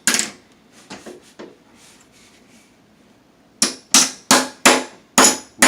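Hammer flattening a cheap bent metal door hinge from a mobile home, a few scattered taps then six sharp, loud ringing blows in an even rhythm, close by.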